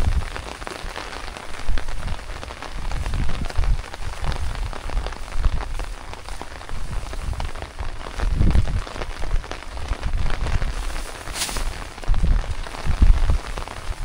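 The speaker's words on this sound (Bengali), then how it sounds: "এই বাড়ির আঙিনায় গবাদি পশুগুলো বৃষ্টিতে ভিজছে।" Rain falls steadily on a village courtyard on a river char in Bangladesh, a dense continuous patter with occasional heavier drops and splashes close by.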